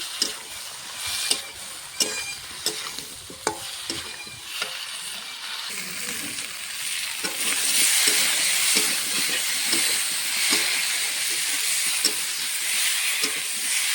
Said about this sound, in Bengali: ভালো করে এখন আলু কপির সঙ্গে মশলাটা কষিয়ে নেব।